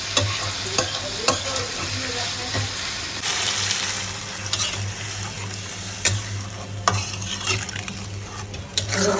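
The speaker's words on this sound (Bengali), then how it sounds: "ভাজা ভাজা করে একদম কমাইয়া তেলের ভিতরে ভাজছি সব" Fish frying in oil with chili powder, ginger and garlic, a steady close sizzle layered with frequent scraping stirs and occasional metallic clinks of a utensil against the pan.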